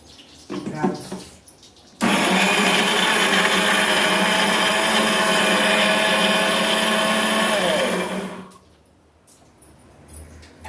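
A kitchen mixer grinder grinds coconut and cumin into masala for a Tirunelveli-style rock fish curry, a loud, steady whirring roar lasting about six seconds before cutting off, with brief talk just before it starts.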